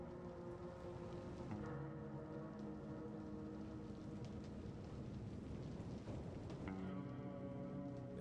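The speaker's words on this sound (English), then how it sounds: "Oh, it is raining." Steady rainfall, a dense continuous hiss with soft patter, sits under a low droning tone and faint ambient noise throughout, with no voices.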